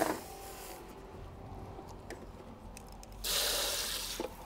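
Tap water running while mud and soil are washed off a plant tray, a soft steady trickle with light clicks and handling noises, then a louder rush of spray near the end.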